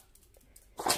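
A small dog sneezes indoors, one short sharp burst near the end after a few quiet seconds, close to the microphone.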